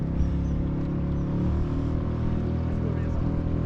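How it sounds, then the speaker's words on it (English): A big boat engine drones on a cold, windy lake during northern pike fishing, a low, steady humming rumble that stays constant and fairly close throughout. "That's a big engine"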